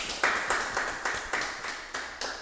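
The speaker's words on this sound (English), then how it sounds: "let's give Chairman Omali Yeshitela a round of applause for that amazing study" A meeting audience claps for Chairman Omali Yeshitela after his study session, the claps landing in an even, regular beat of sharp strokes at moderate loudness with no talk over them.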